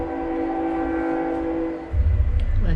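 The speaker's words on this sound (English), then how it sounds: "Let the train go by." A train passing nearby sounds a long, steady horn with rich layered tones, and low rumbling from the wheels builds up near the end.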